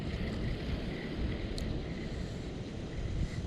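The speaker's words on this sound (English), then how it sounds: "That's just because it's super windy today." Strong wind roars across a river, a dense steady rush buffeting the microphone from start to finish, with no voices.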